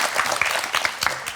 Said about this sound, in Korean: 지금처럼 계속 행복하게 사시라고 우리 다시 한번 격려의 박수 보내드릴까요?